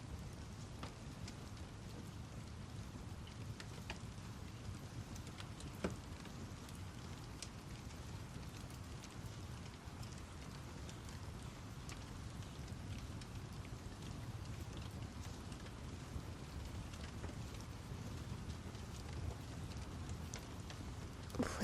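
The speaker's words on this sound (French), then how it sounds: "Profitez juste de la pluie qui tape contre la fenêtre" Steady rain patters against a window in a soft, continuous wash with occasional sharper drops, faint and close throughout, with no voices.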